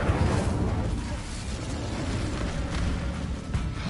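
An Incendio fire spell cast in Hogwarts Legacy, a loud continuous roaring whoosh of flame that fills the whole moment without pause.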